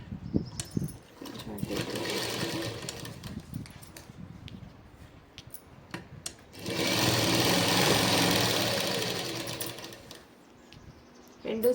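Sewing machine stitching a Punjabi dress, running in two long loud bursts of steady whirring with a pause between, while a voice talks quietly in the gaps.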